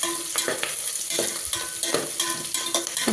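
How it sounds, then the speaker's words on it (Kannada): Onions browning in oil for Kannada-style dal khichdi, a loud close sizzle broken by repeated spoon scrapes and clacks against the pan at a quick, uneven rhythm. "ಬ್ರೌನ್ ಕಲರ್ ಬರೋ ತನಕ ಈರುಳ್ಳಿ ಚೆನ್ನಾಗಿ ಬೇಯ್ತಾ ಇದೆ"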